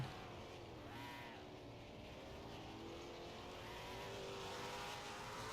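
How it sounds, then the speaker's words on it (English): Formula Micro race car on an oval doing a drift lap, its engine droning steadily and fairly faint as it runs continuously, with no talking. "As Twin does a drift lap."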